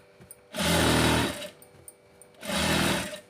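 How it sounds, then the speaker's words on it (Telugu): Sewing machine stitching piping onto a blouse piece, two short loud bursts of fast motor-driven stitching separated by a quiet pause, heard up close. "ఈ విధంగా పట్టుకొని ఎక్కడి నుంచి అయితే వస్తుందో అక్కడికి స్టిచ్ అనేది వేసుకోండి"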